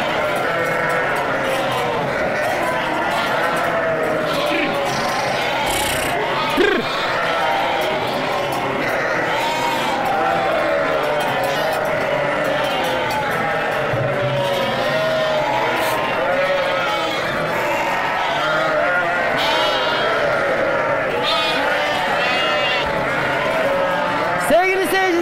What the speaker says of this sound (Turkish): Kuzuların sessizliği bitiyor. Bütün kuzular içeriden çıkacak. Analarına doğru koşa koşa gidecekler.